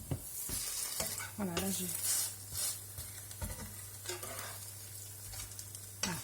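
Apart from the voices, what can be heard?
eggs frying in a pan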